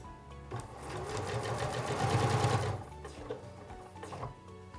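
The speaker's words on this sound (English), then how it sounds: "So now let's go ahead and start sewing." A sewing machine with programmable needle up/down position stitches steadily, building to a loud, even whir with a rapid needle rhythm for about three seconds, then stops, leaving quieter mechanical clicks.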